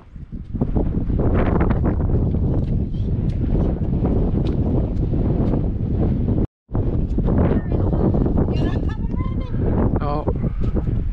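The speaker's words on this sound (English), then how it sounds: "The wind blows through our hair." Strong, steady wind roars and buffets the microphone outdoors at Twillingate, a constant loud rush broken by one brief cut, with voices faintly under it near the end.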